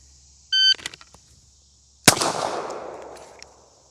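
A single loud pistol shot on an outdoor USPSA range, preceded by a shot-timer beep, the sharp crack trailing into a long fading echo across the open range.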